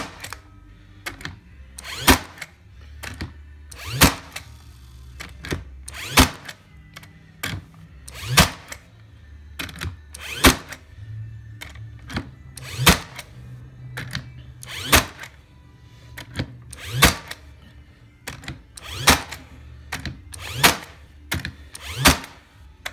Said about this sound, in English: we're gonna go ahead and fire some nails in here. These are 2-inch brad nails,